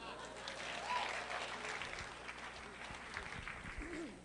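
An audience at a talk on arts education claps steadily for a few seconds, a dense, moderately loud patter of many hands filling the room.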